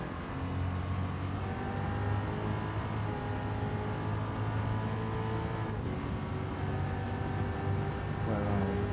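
A 1960s race car from Gran Turismo 7's Goodwood Revival night racing: a steady, loud engine drone held at high revs throughout, with a brief shift in pitch near the end and no talking.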